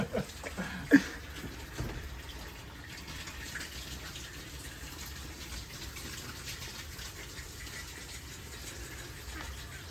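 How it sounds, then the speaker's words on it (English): Water poured down the side of a koi pond at a koi farm, a faint continuous gushing trickle with a couple of soft knocks near the start, heard alone without talk. "I got a sneaky feeling, Daz, you're pouring that down the side of the pond, yeah?"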